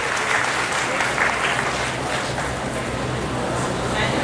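A large audience applauds at an HR meet panel discussion, producing continuous, even clapping throughout with a low hum of crowd noise underneath and possible murmured voices.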